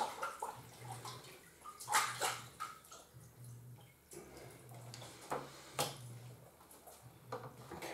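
A large trout from Ashokan Reservoir is rinsed under running water, giving steady close splashing and trickling with several louder gushes as it is handled, and no talking.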